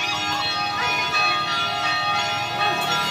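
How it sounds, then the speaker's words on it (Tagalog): A church bell rings steadily at a rest stop in Antipolo during a bike ride, its sustained metallic tones loud and continuous with a bright, layered ring. "Tumunog na yung kampana ng simbahan."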